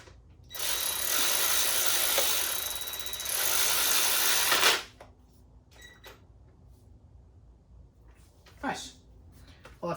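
A Ryobi 18V 3/8-inch cordless ratchet runs steadily for about four seconds as it turns a bolt, a loud continuous motor whir with ratcheting buzz, followed by quieter clicks and handling noises.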